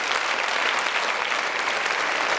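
Theatre audience at a live show in Rome giving a big round of applause, dense continuous clapping filling the room evenly, loud and sustained without pause.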